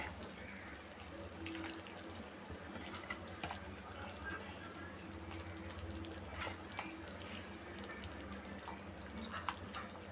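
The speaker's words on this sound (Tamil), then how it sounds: "இப்போ நல்லா குழம்பு கொதிச்சிருச்சு" Fish curry (kuzhambu) boiling in a pot, a faint, continuous bubbling and gurgling with scattered small pops and drips, steady throughout and without talk.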